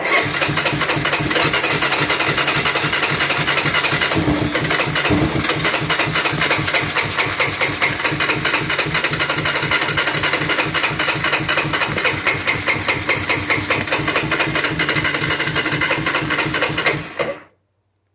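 An abandoned Honda Fortrax ATV engine cranks and sputters while trying to start, a loud, continuous, rapid mechanical chugging that runs almost the whole time and then cuts off abruptly.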